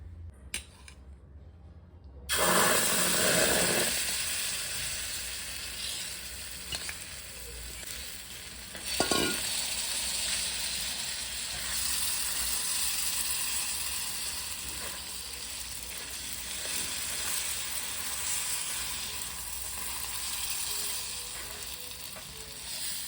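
A steady, even sizzle of oil on a hot griddle while making a breakfast chilla, starting abruptly after a brief quiet and continuing at a moderate level with a small clatter partway through.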